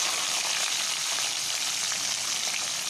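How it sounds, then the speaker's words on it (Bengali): Cumin seeds, a dried chili, a bay leaf and chopped onion sizzle steadily in hot oil, a dense, even crackle that holds close and constant throughout with no voices. "সাদা জিরে আর একটা শুকনো লঙ্কা ফোড়ন দেব, তার সাথে দেব একটা তেজপাতা আর দেব কাটা পেঁয়াজ।"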